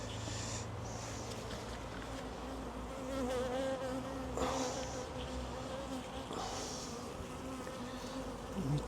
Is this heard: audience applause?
no